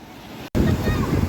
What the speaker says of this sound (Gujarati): દરિયામાં મોજા જબ્બર આવો